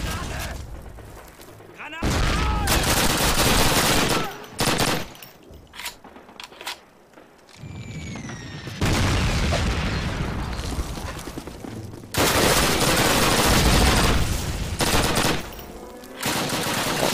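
Heavy gunfire and grenade blasts from the Call of Duty 1 Warsaw tank factory level, with loud sustained bursts of automatic fire and booming explosions broken by brief quieter gaps, all close and dense.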